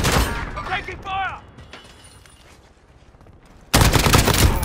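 Gunfire in Call of Duty: Modern Warfare, a loud burst of shots at the start, a quieter stretch, then a dense loud volley at the end, with brief game radio voice.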